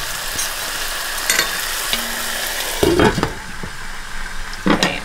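Meat sizzles in a covered pan on low heat, a steady frying hiss under occasional stirring clinks and scrapes, fairly close with no talking.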